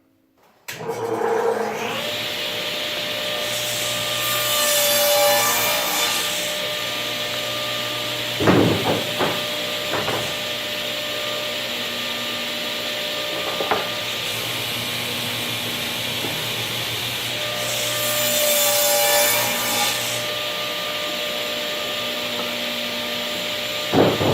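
A table saw whines steadily while cutting plywood pieces for a shop lumber rack, a loud continuous hiss and drone with a few brief knocks and swells as boards pass through, and no one speaking.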